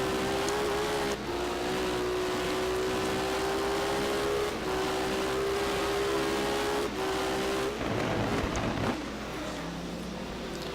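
GT1 race cars at Sonoma, likely in a sim race, drone with a steady high engine whine that holds and shifts pitch, loud and continuous with a faint voice underneath.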